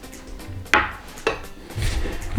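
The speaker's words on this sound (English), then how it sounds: "And then we're going to mix it around until it forms a dough." A spoon knocks and scrapes against a bowl while soya milk is stirred into dry ingredients for a vegan dough, two sharp clinks followed by softer stirring and shuffling up close.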